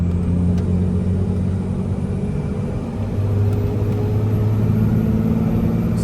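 A truck with an adjustable muffler closed climbs a small hill under hard throttle, giving a steady, muffled low exhaust rumble and engine drone with no sharp peaks, heard from inside the cab.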